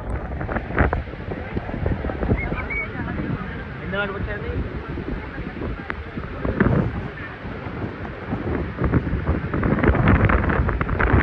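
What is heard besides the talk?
strong storm wind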